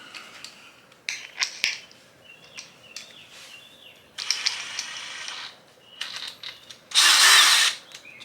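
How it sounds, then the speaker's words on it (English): A power drill spins a polishing disc against a faded, yellowed Audi A3 headlight in several short whirring bursts with pauses between, the last burst the loudest and longest. "And this end is going to go into"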